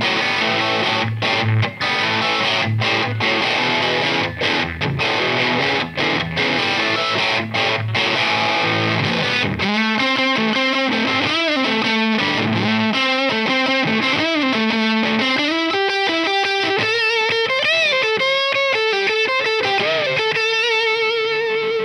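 An Epiphone Inspired By Gibson Les Paul Special in TV Yellow with dual P90 pickups plays a loud distorted tone, with chopped strummed chords giving way to sustained riffing and bending single notes, alone without talk.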